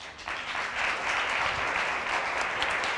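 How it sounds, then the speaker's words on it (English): Steady applause from a courtroom audience at a televised divorce court hearing, a dense, even wash of clapping that fills the whole stretch at a moderate, constant level without voices over it. "Quit clapping, because I'm coming to you now, Ms. Duncan."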